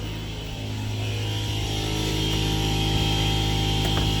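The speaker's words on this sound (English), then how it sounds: "There's my air compressor." A steady mechanical drone with a strong low hum and buzzing harmonics, like an air compressor running nearby, constant and loud throughout.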